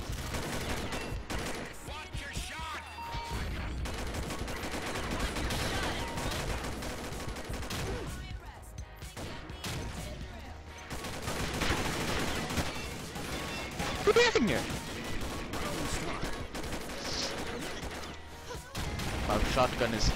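Shotgun fire in a multiplayer shooter match, heard as scattered loud shots among constant gunfire and crashes, with a player speaking over the action.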